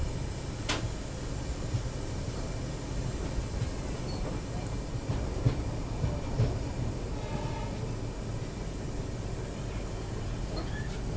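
The Rajdhani Express rolls at speed past a special train at the Ghaziabad outer, giving a steady rumbling roar with scattered clicks and rattles of wheels over rail joints throughout.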